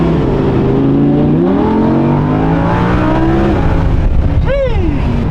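An Audi R8 engine revving hard while driving, rising pitch sweeps climbing and dropping as the car accelerates and shifts, loud and close throughout with a sharp rev flare near the end.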